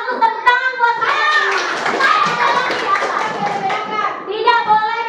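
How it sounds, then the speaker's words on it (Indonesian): A class of fourth-grade schoolchildren claps together in a rattling burst, mixed with their chanting voices. The clapping is loudest in the middle, and the children's voices carry on around it. "Tepuk tangan buat saya."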